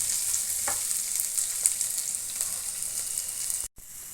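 Onion frying in a small amount of oil, a steady bright crackling sizzle close up with a few faint stirring clicks and a brief break near the end.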